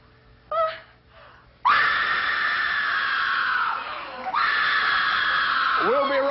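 A woman lets out a long, piercing scream imitating Kate Capshaw's shriek from Indiana Jones and the Temple of Doom, loud and sustained with a brief break before a second drawn-out wail, after a short gasp at the start.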